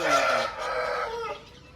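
A heavy Kakinada-type rooster at a poultry seller's crows once nearby, a single fairly faint call that trails off with nobody talking.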